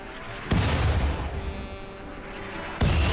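A RimWorld gunshot booms out loud twice, a heavy low-frequency blast with a long rumbling tail, the second shot cut off near the end.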